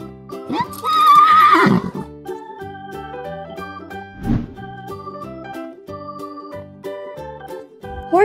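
A loud, shrill horse whinny rises early on, followed later by a shorter snort, all over soft melodic music.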